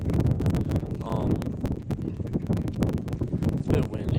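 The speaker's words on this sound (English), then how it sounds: "It's a bit windy here." Wind buffets the microphone at an outdoor varsity baseball game, making loud, uneven gusty rumbles and bursts with no talking.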